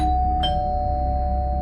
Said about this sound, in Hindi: अब तीसरी बार बेल बजी।